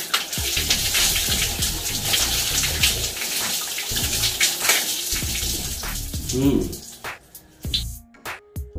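A tap runs steadily while hair dye is rinsed out of hair, a close splashing wash that thins and breaks up near the end, with a voice talking over it.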